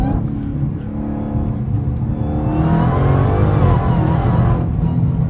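A Dodge Hellcat Redeye with catless mid pipes pulls hard from about 60 mph in third gear, its supercharged engine roaring loud and close and building steadily in pitch.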